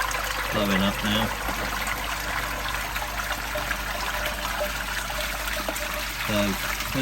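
Steady water trickling and splashing from a pond bottom drain being flushed, a continuous wash, with a voice speaking briefly over it near the start and end.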